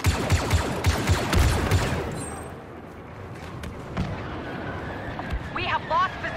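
A grenade blast in the Star Wars Battlefront II video game, a loud booming explosion early on amid rapid gunfire and battle noise, fading into softer rumbling, with a voice talking over the combat.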